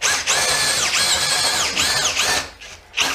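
A cordless 12V drill labours into tough decking, its motor whining at close range and changing pitch as it bogs down under load, then stops briefly before starting again near the end.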